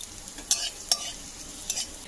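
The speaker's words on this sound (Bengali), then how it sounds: "আদা রসুন কুচিটা 1 মিনিট মতো একটু ভেজে নেব।" Chopped ginger and garlic fry in hot oil, a steady soft sizzle broken by a few sharp stirring scrapes at the pan; close and fairly quiet, no voices.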